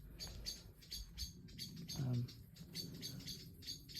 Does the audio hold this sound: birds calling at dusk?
yes